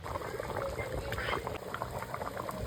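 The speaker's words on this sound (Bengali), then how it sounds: "জল দিয়ে ফোটাতে থাকতে হবে যতক্ষণ না মাংস ভালোভাবে গলে যাবে" Deshi chicken curry simmering in water in a pot, a continuous soft bubbling and popping boil, faint and close.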